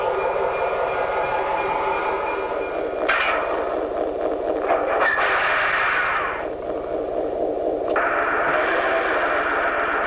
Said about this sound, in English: our diesel version of ProtoSounds contains actual diesel recordings, as well as optional sounds like radio transmissions between engineers and dispatchers